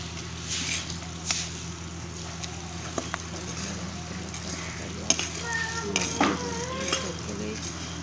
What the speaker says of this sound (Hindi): ज्यों ज्यों मक्की भुज्जी जाऊगी तां नमक बिल्कुल, मक्की भी सुक जाणी है